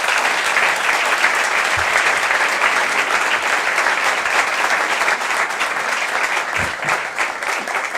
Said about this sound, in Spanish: que sea nuestro aplauso la muestra del merecido respeto y admiración que tenemos por don Jesús